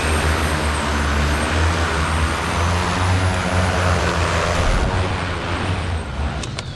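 A homemade 16-propeller eVTOL drone roars with a loud, steady, dense whir of many rotors straining to lift off. The noise stays close and continuous throughout and eases slightly near the end.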